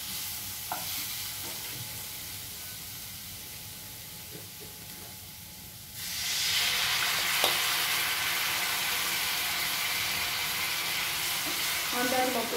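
Water poured into a pan of potatoes cooking in spices, the quiet low sizzle and stirring suddenly jumping to a loud, bright, hissing steam burst that keeps sizzling steadily to the end.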